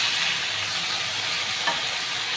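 Pointed gourd and prawn curry sizzling hard in a pan as a little hot water goes in, a loud steady hiss and crackle of frying and steam throughout, close up with no talk.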